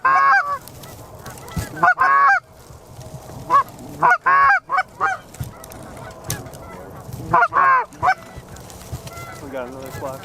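A flock of geese honks loudly in repeated bursts across an outdoor hunting spot, calls overlapping in clusters with short quiet gaps between.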